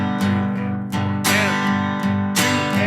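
Guitar strummed in steady eighth notes with accents on beat 2 and the and of 4, bright ringing chords with sharp louder strokes recurring in a syncopated pattern, close and alone.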